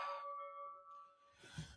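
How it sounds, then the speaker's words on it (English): A bell sound effect rings out as a soft, sustained ding-dong chime with lingering tones, followed by a brief burst of brighter noise, all faint and without talk. "Where my bell at?"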